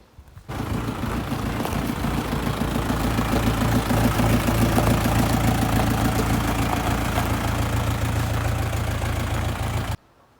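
Small engine of a row-crop cultivator working between rows of cabbage and carrots in a garden, starting abruptly and running at a steady, loud, close chugging pace for about nine seconds before cutting off.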